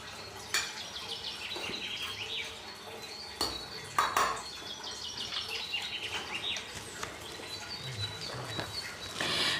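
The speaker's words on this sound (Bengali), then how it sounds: "এবার সব উপকরণগুলো ভালোভাবে মিক্সড করে নেব।" Ingredients for black cumin biscuits, including powdered sugar, are stirred together in a bowl with clinking utensil scrapes and taps at an uneven pace, fairly close, while birds chirp faintly in the background and no one talks.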